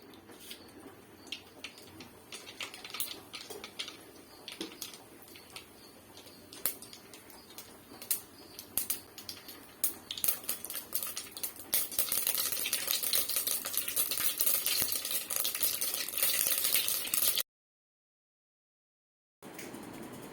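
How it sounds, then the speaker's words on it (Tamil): Mustard seeds spluttering in hot oil in a kadai for tomato thokku: sharp, irregular pops and crackles that grow denser and louder into a steady crackle, then stop abruptly. "கடாயில் எண்ணெய் ஊற்றிட்டோங்க கடுகு போட்டுக்கோங்க"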